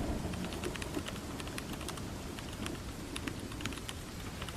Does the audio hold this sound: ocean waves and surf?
no